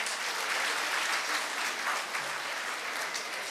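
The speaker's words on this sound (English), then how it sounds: "you should clap for yourself" Audience applause at the Yenepoya Deeksharambh 2025 inauguration, a dense, steady clapping from a large crowd filling the hall, sustained evenly throughout at a loud level with no talk over it.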